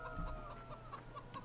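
Farm chickens in the Farming Simulator 17 video game cluck softly and steadily in a brief, quiet stretch, with low background hum and no talking.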